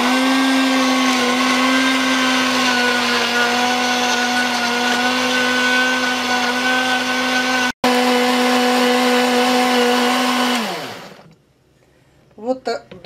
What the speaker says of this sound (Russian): Закрываем блендер и начинаем измельчать.